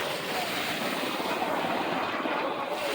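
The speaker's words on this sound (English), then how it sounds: "C5 Galaxy out there circling around." Broad, steady roar of a C-5 Galaxy military transport aircraft circling overhead, dense and constant without a break, loud and filling the whole clip.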